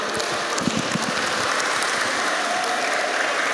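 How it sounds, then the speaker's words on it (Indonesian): Steady applause from a seated audience at an Islamic boarding school sharing session, dense clapping that holds evenly throughout with no voices over it. "Tepuk tangan untuk kita semua."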